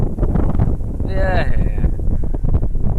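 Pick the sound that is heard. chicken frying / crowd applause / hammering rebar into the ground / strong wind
strong wind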